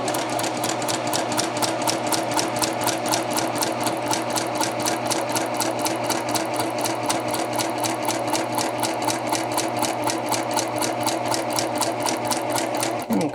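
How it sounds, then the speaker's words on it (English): A sewing machine runs continuously, stitching a curved seam with a straight stitch about 3/8 inch from the raw edge, its rapid even needle clatter loud and close for the whole stretch, with no voice over it. "I'll stitch all the way along my curve until I reach this point over here"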